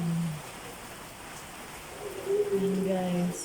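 Rain falls steadily in a broad, continuous wash, with brief tonal calls or voices rising over it toward the end.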